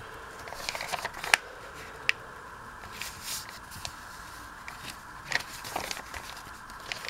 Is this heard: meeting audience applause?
no